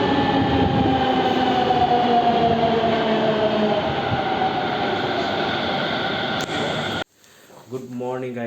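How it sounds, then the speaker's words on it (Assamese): A Delhi Metro train arriving at platform 2, a loud steady rumbling roar with rising wheel and motor whine that cuts off near the end, followed by a brief chime-like announcement tone. "এতিয়া ইয়াৰ প্লেটফৰ্ম নম্বৰ 2 মেট্ৰ'টো আহিব"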